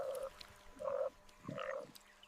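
Frogs croak in a damp wetland, three short, buzzy calls spaced about half a second apart, moderately faint against a soft background hush with no voices.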